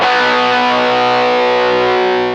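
A single sustained electric guitar chord rings out through a Donner budget pedal set to low-gain distortion, bright and full, fading slowly at the end with no talking.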